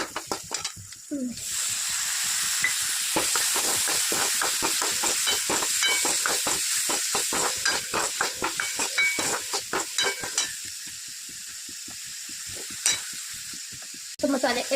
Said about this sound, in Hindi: अब इसमें मैं टमाटर डाल देती हूँ